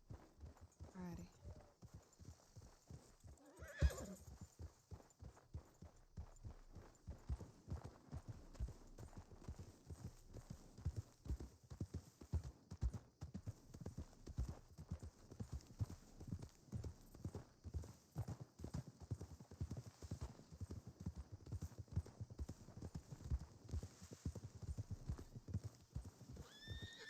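Horses walk with a steady, rhythmic clip-clop of hooves, quiet and close, and one whinnies briefly early on while voices murmur faintly in the background.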